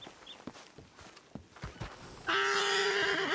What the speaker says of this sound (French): Attention, le cheval.